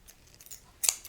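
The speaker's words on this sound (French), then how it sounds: "Les ciseaux, alors celui-là" A pair of scissors handled up close for ASMR, faint fiddling followed by one crisp metallic snip near the end, very quiet and intimate.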